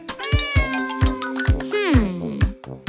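A cat meows repeatedly at bath time, a series of loud, close, drawn-out cries with one longer wavering yowl, coming in a quick irregular rhythm with no talking.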